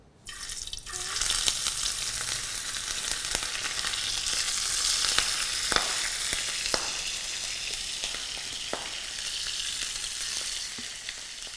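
Fish pieces fry in mustard oil, producing a loud, steady crackling sizzle with frequent sharp pops and spits that continues without pause for several seconds.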